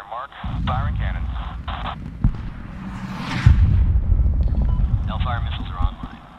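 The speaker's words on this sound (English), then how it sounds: "Firing cannons." Radio voices talk over a low, rumbling barrage of heavy gunship cannon fire with distant booms, one sharper blast standing out midway, in Medal of Honor (2010).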